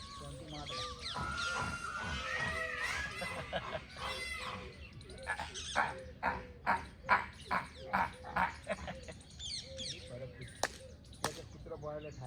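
A dog barks in a quick, rhythmic series of sharp, fairly close barks, with people talking before and around the barking.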